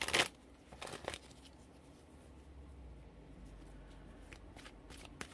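Tarot cards are shuffled and pulled, opening with a loud, close riffle and a few sharp card snaps, then fading to a soft, faint rustle of handled cards.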